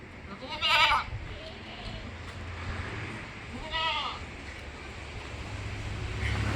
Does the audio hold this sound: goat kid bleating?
yes